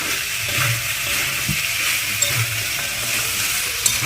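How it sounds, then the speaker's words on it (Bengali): Chicken with green chilli and lemon is sautéed in a pan, giving a steady, loud, close sizzle with occasional soft stirring scrapes and knocks, and no talking. "এবার কন্টিনিউ কিছুক্ষণ কষে যাবো এইভাবেই"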